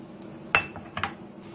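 Pieces of green chili and ginger dropped into a mixer grinder jar while preparing spiced buttermilk, giving two or three light, close clinks against the jar over quiet room tone.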